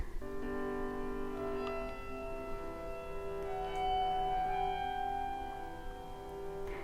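Slowed-down music drags along at a crawl, with sustained, smeared tones and a faint, grainy wash underneath; quiet and steady throughout.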